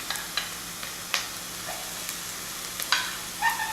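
Onion frying in a pan while cooking aubergine bharta, a steady soft sizzle with a few sharp stirring clicks and scrapes, close and alone with no talk.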